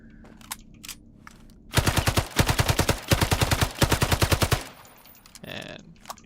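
Automatic weapon fire in the shooter game Islands of Nyne: a few isolated shots, then about three seconds of loud, close, rapid-fire bursts in a tight rhythm, followed by quieter scattered clatter with no talking.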